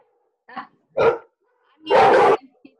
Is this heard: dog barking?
yes